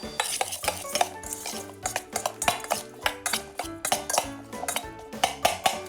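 Cheese is mixed with sesame oil and salt in a small bowl, giving a quick, irregular run of close clinks and scrapes of utensil against the dish.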